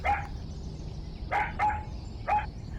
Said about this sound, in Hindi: और यहाँ पर मुन्ना कुत्ते को डरा कर भगाने की कोशिश करने लगता है